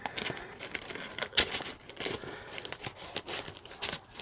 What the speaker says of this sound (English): So let's just get this garbage bag